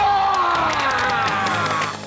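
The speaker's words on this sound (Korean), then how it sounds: "박수!" An audience at a BTN Buddhist TV subscriber-milestone celebration cheers and applauds in a steady, dense wash of claps and shouts that fades slightly at the end.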